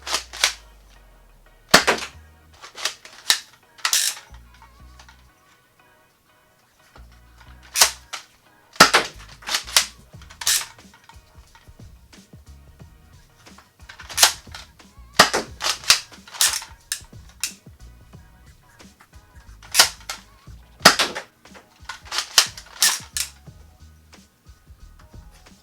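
An X-Shot Ninja Quick Scope toy blaster fired repeatedly up close, a series of sharp snapping shots mixed with clacking of the break and pump action, in uneven bursts with short pauses between.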